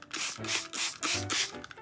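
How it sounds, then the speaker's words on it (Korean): Rhythmic rasping strokes of wet sandpaper rubbing back and forth on the back of a hardened resin piece, close and fairly loud, about five passes in under two seconds. "이제 뒷면 사포질을 해줄게요"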